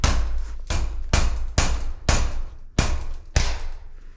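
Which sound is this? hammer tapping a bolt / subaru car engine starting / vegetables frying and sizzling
hammer tapping a bolt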